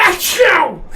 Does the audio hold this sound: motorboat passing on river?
no